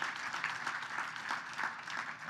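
At a charity gala, the audience gives a round of applause for the evening's $5,000 donors, a continuous crowd clapping heard faint and somewhat distant throughout.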